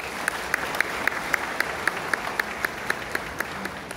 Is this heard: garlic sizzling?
no